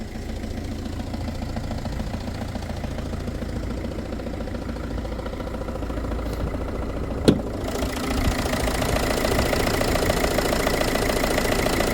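A Ford diesel engine idles with steady mechanical clatter, a worn pulley adding noise somewhere beneath it; the running tone holds even throughout, with one sharp brief click partway through and a slightly louder, brighter stretch afterward.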